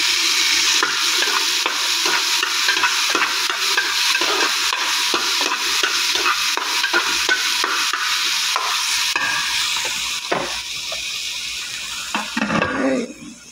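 Tomatoes fry in a pan for Saudi hamam kabsa with a steady, close sizzle and a regular rhythm of stirring strokes throughout, ending with a few louder scraping clatters.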